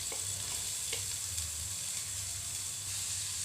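Sliced onions frying in a spoonful of oil in a frying pan, a steady soft sizzle and hiss with faint occasional clinks, close and fairly quiet with no voices.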